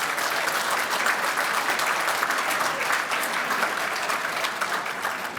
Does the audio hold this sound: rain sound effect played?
no